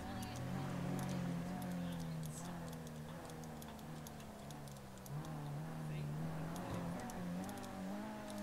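A small RC car drives off-road, its electric motor whining and rising and falling in pitch as it speeds up and slows, heard at moderate distance under people chatting.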